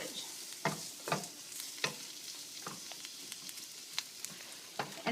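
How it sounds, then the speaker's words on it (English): Red cabbage sautéing in a pan, a soft continuous sizzle punctuated by sharp spatula scrapes and clatters at irregular intervals, fairly quiet and close. "We're basically going to just saute or stir fry the cabbage."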